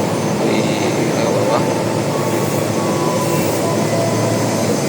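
An underground commuter rail station in Jakarta on the line toward Manggarai, with a loud, continuous rumble and hiss of a train running through the platform, steady and close for the whole stretch.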